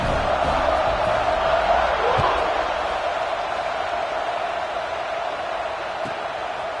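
A football stadium crowd roars steadily after a touchdown, a broad sustained wash of cheering with a few louder whoops early on.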